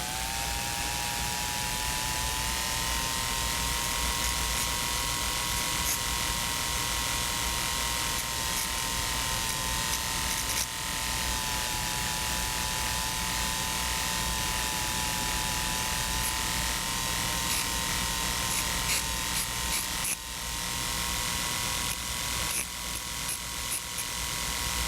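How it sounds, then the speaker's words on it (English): A carborundum stone grinds a 45-degree bevel around the edge of a denture backing, giving a steady, close, whirring hum that runs without a break and with no talking. "with a suitable carborundum stone, the 45-degree bevel is established around the periphery of the backing"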